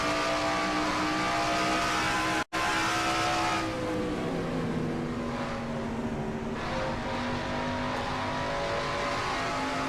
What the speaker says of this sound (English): Quentin Moore's car running right behind Kyle Matthews in 42 and the 7 car of Aubrey Scott